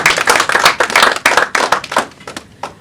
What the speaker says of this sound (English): Round of applause to this amazing session.